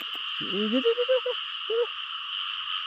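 Frog croaking in a Thai rice field or pond at night, a few throaty calls around the middle and one short call later, heard over a constant insect drone.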